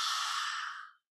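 A single ujjayi ocean breath exhale during yoga, a steady, airy hiss through a constricted throat lasting about a second and fading out, close and alone.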